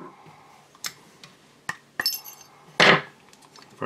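Metal clicks and clinks from handling an AR-15 rifle bolt and firing pin, a few sharp separate taps, then a louder scraping rattle near the end, close and otherwise quiet.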